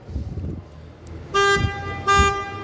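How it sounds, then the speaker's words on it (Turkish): Factory-fitted alarm on a 2023 Ford Courier Titanium Plus sounding in two loud horn-like toots, with low engine or street rumble between them. "Orijinal alarm arkadaşlar. Bu şekilde fabrikasyon alarmı arabamızda var."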